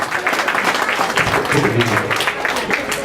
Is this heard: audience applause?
yes